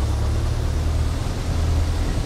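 Piper Cherokee 180 single-engine light aircraft engine running steadily in the FSX flight simulator, a loud continuous low drone with no pauses and no voices.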